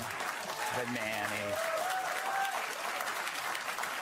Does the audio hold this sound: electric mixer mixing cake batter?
no